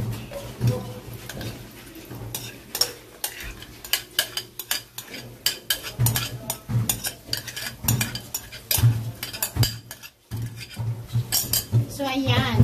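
Sisig tofu being stirred in melted butter in a pan, with repeated close clinks and scrapes of a utensil against the pan under a soft sizzle, irregular in rhythm throughout.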